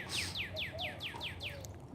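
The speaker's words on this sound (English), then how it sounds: "My birds are mad." Backyard birds chirp near empty feeders in a quick run of about seven bright, descending tweets, close and clear, with fainter softer calls beneath and no talking.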